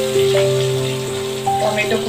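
Chopped onions dropped into hot oil with whole garam masala and turmeric for chicken kosha, a steady close sizzle with brief crackles and a faint hum under it.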